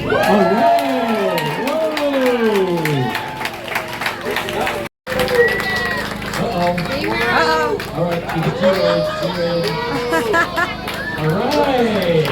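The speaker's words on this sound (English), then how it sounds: "Let's hear your cheer." A group of kids shouts a practised cheer at an outdoor UFO fair, loud rhythmic chanted voices rising and falling in unison for about twelve seconds, with a brief break partway through.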